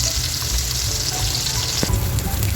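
Tawilis fish frying in a pan, a steady dense sizzle and spatter of hot oil running throughout, close and moderately loud, with a faint brief clink near the middle.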